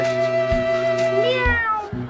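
A person imitates a cat, giving a sustained, wavering meow with a rising, bending pitch, followed by a couple of shorter low grunts.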